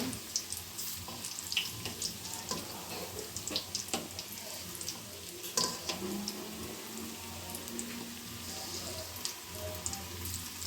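Bajji and bonda fritters deep-fry in a pan of bubbling oil, giving a steady, close crackle and fizz with scattered sharp pops throughout.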